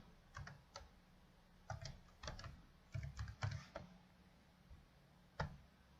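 Typing on a computer keyboard in irregular bursts of close, crisp key clicks with short pauses between, fairly quiet and with no talking.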